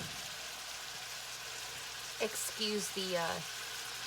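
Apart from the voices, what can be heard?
bacon grease sizzling in a pan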